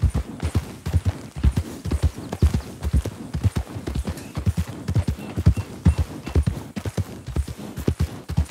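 A horse gallops in a video game, with steady, loud clip-clop hoofbeats in a quick repeating rhythm that carry on throughout.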